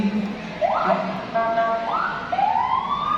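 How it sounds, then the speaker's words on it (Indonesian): A loud electronic ambulance and fire truck siren sweeps upward in repeated rising wails, with a brief warbling tone between sweeps. "Ambulan dan juga pemadam kebakaran menggunakan sirine yang berbunyi seperti ini."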